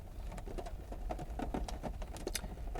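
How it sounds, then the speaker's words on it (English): Rain patters on the roof of a parked car heard from inside, a steady close mix of small irregular drop ticks over a low rumbling background, with no voices. "Can you hear the rain?"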